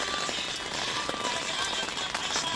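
Rain patters steadily on a tent at a campsite in Kazakhstan, a dense, even hiss of drops with scattered sharper taps, close and continuous.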